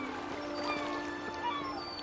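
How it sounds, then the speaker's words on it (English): A cat in the video game Eastshade gives a few soft meows over a steady hum of ambient game music, the calls faint and close. "Oh, a cat!"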